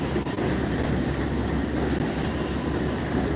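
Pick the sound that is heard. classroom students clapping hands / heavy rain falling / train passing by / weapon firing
train passing by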